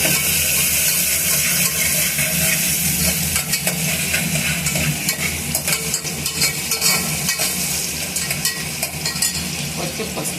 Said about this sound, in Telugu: ఆనియన్ ఇంకా పచ్చిమిర్చి. తర్వాత మిక్స్ చేయాలి.